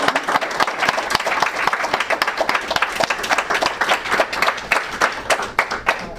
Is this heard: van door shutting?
no